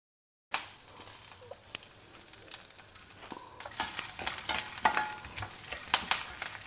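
Peanuts and fresh curry leaves stir-fry in a hot pan, a steady crackling sizzle broken by scraping stirs and sharp pops, growing louder and busier in the second half.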